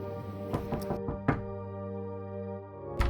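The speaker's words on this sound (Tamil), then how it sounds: "இவ்வளவு காலையில் யாரு இப்படி கதவை தட்டுறது?" Knocks on a door early in the morning: a cluster of sharp raps at the start, a firmer thud a moment later, and another knock at the end, close and fairly loud over a tonal musical background.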